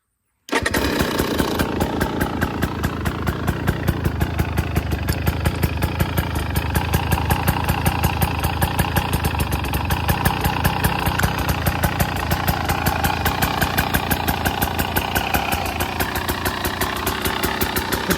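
A 2025 KTM 300 XC-W hard enduro two-stroke motorcycle fires up after a brief silence and settles into a loud, steady, rapidly pulsing idle that runs continuously, close to the listener with no talking.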